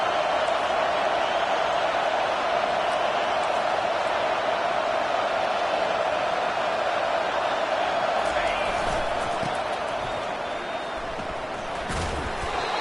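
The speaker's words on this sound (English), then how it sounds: "This crowd is trying to inspire this defense to make a big red zone stop." A loud, dense roar from a UCLA football stadium crowd cheering on its defense during a red zone stand. The sound holds steady throughout and swells briefly near the end.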